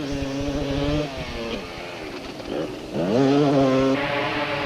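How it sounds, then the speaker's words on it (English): Motocross bikes race in a 1991 event, including a Kawasaki and a KTM, with loud two-stroke engines revving up and down close by, pitch rising and falling as riders shift and accelerate. "Lying a spectacular second was Yuri Human, who was obviously having the time of his life on the Pro Honda Kawasaki and making it look all so easy."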